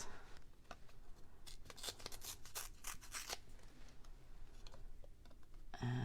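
Paper ripping at a craft table: a run of short, crisp tearing bursts, fairly quiet and close, followed by a brief heavier rustle at the end.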